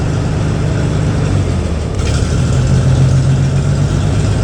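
The engine of a Gleaner A combine runs close by with a loud, rough, throbbing rumble. Its pitch shifts slightly partway through as the throttle is adjusted, and no one speaks.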